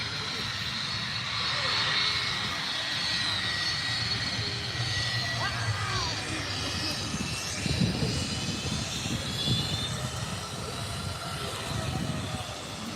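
An airplane with no livery moves at Manchester Airport, heard from a visitor park as a steady distant jet engine roar that holds throughout, with people talking over it.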